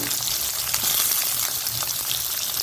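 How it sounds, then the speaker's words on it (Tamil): Onions sautéing in a pan for a spicy green pea kurma, a steady broadband sizzle and crackle running continuously, close and fairly loud, with occasional soft stirring scrapes and no talking. "இதை கொஞ்சம் வதக்கிடுறேன்"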